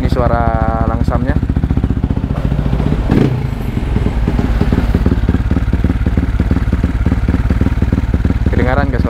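A Yamaha WR155R with a Norifumi exhaust and a noisy clutch housing, its rubber replaced, idles close up with a loud, even, rapid thumping pulse throughout, broken by one brief blip.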